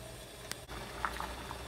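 A pot of tiffin sambar simmers and bubbles steadily, with a soft continuous hiss and a few small pops, no voices.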